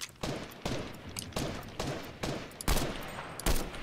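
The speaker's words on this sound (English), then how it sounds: "Someone's shooting at me." Rapid bursts of video game gunfire aimed at the player in a first-person shooter, about six sharp volleys at a steady rhythm, loud and close with no talk over them.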